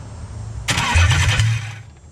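An abandoned Nissan 300ZX cranks and fires up for the first time, catching abruptly into a loud, rough, close idle that runs for about a second before fading back down.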